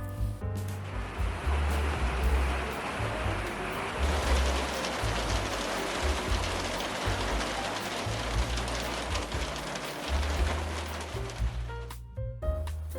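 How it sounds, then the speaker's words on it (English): Heavy rain pours down in a dense, steady roar of countless drops, loud and continuous, briefly thinning near the end. "it was raining so hard and so loud"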